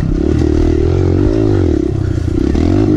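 A Kawasaki KLX 140L dirt bike rides off-road, its small engine droning loudly and continuously with shifting revs, with clattering and scraping from the rough terrain.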